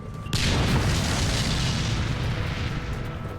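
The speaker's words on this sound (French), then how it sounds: "L'obus a frappé le sol à quelques mètres derrière nous." A sudden heavy boom of a tank shell hitting the ground a few metres away, in combat at Stalingrad, followed by a long rumbling roar and scattering debris that slowly fades.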